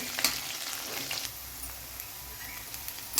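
Onion frying in oil, a continuous close sizzle with a few sharp crackles and the light scrape of stirring, no voices.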